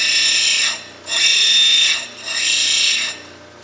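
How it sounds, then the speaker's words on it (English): Wonderstone pressed against a cabochon grinding wheel, a loud high abrasive hiss that swells and fades in three even back-and-forth passes, close up with no voices. "what I'm going to be doing is moving it back and forth along the grinder"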